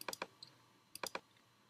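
Arrow keys on a computer keyboard are tapped in two quick bursts of three or four crisp clicks separated by a short pause, close and fairly quiet with no voices.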